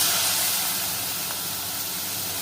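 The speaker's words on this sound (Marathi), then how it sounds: "इथे चण्याची डाळ टाकून घ्यायची आहे." Chana dal goes into a pan of roasted spices for a spicy curry, giving a steady, close sizzling hiss that holds without break.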